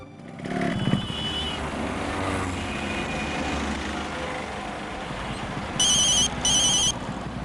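A phone ringtone plays in two short, bright bursts near the end, over a loud, steady background rumble of traffic and engines, with no talk.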